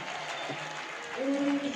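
An arena audience at an Italian Serie A1 rink hockey match applauds the teams lined up at centre rink, a moderate patter of clapping under a commentator's voice.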